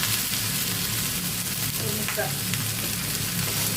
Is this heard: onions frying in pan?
yes